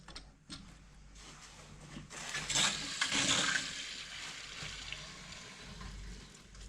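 Cold water rushing into household pipes as the mains supply is opened during a heating conversion, a steady hiss swelling briefly in the middle and continuing alone.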